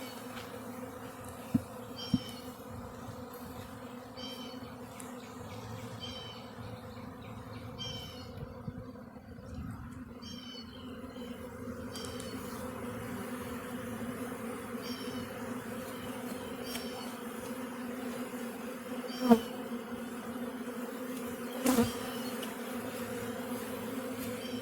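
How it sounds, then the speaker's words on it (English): A honey bee swarm fans and buzzes at the entrance of a nursery pot trap, a soft steady hum close by with scattered individual bees whining past and a few faint knocks. "the bees are at the entrance and they're fanning"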